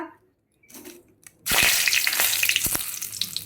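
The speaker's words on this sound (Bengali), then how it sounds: "তেলটা গরম হয়ে গেছে, এখন ফোড়ন দিয়ে লইতেছি তেজপাতা" Bay leaf and whole spices such as cardamom and cinnamon dropped into hot oil in a wok, first a quiet moment with small clinks, then a sudden loud, sustained close sizzle with crackles.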